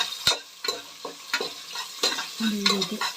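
Spices and onions fry in hot oil, stirred with a spoon that scrapes and clinks against the pan in irregular strokes over a steady close sizzle.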